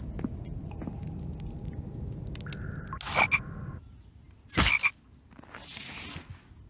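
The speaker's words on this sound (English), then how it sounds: "Is that another frog there?" Frog croaking in The Infected video game, a couple of loud, brief croaks standing out over steady ambient game noise and a low background hum.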